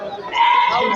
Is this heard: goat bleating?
yes